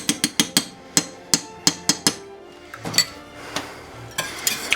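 Metal whisk striking a pan as a flour and butter roux is whisked into a shrimp, garbanzo and spinach dish, giving a fast run of sharp, close clinks and taps that loosen into quieter scraping and rattling.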